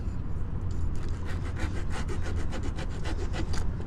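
Repeated rasping strokes of a blade whittling and smoothing a bent metal boat propeller, a steady back-and-forth scraping rhythm, close and moderately loud, with no talk.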